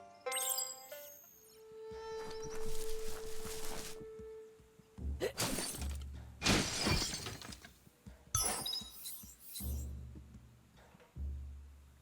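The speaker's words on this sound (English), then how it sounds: "You shouldn't worry about smashing up the box." Crates being smashed in Biomutant, a few loud crashing, shattering bursts with splintering debris separated by quieter gaps, with a tonal game sound and a brief voice-like passage early on.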